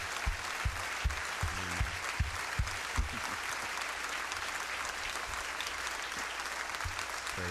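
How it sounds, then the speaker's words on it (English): Applause from a church congregation at a Sunday morning service, heard as quiet, steady clapping from a room of people, with a few sharper individual claps standing out early on. "And I think, Brother Steve, we owe him a round of applause for everything he has done."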